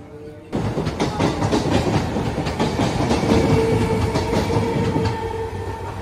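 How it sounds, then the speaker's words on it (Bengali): A train departing Jaynagar station toward Namkhana rumbles close by, its wheels clattering in a steady rhythm as it rolls along, loud and continuous after a sudden start. "এই জয়নগরে এই ট্রেনটা আমাদের নামিয়ে দিয়ে নামখানার দিকে এগিয়ে যাচ্ছে"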